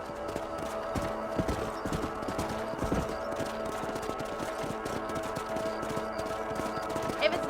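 Steady hoofbeats of a horse trotting in Red Dead Redemption, a continuous rhythmic clip-clop close by, with a faint whinny and ambient game sound underneath.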